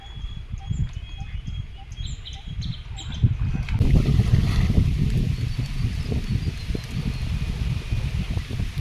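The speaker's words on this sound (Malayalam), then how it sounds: "കുറച്ച് ദിവസമായിട്ട് കാറ്റ് ഒരുപാട് കൂടുതലാണ്" Strong wind roars in a steady low rumble, rising into louder gusts midway, with faint bird calls in the background early on.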